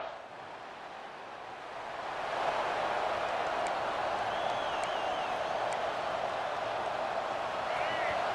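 A stadium crowd in EA Sports College Football roars as a steady wash of noise that swells after a couple of seconds, with faint whistles and commentary voices mixed in.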